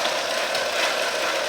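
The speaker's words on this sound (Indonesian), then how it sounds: "Agar proses ini lebih cepat, maka kita menggunakan mesin, sehingga pemutarnya cukup menggunakan mesin, tidak usah diputar dengan tangan" An automatic ice cream making machine runs its motor-driven churn, giving off a steady, close mechanical hum and whirring hiss with no change in level and no talking.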